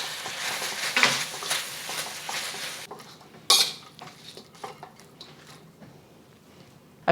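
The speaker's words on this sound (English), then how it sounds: "the wok is great because you can just toss it without having to worry about, is it gonna fall out of your pan?" Beef tossed in a wok for crispy Mongolian beef, clattering metal scrapes and a bright clang as the pieces are flipped, then quieter sizzling with occasional knocks.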